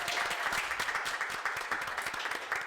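An audience claps through a podcast recording, a dense fairly quiet patter of many hands with no talk over it.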